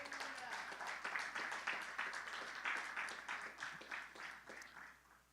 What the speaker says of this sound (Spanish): Un aplauso al Señor fuerte.